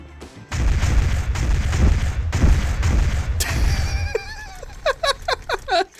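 Loud, dense bursts of automatic gunfire and booming shots in the video game Counter-Strike, continuous for about four seconds, then giving way to short, sharp, higher-pitched sounds, with laughter heard near the end.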